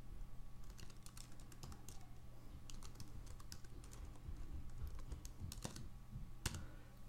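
Typing a web address on a computer keyboard, a steady stream of close key clicks with irregular rhythm under a low background hum.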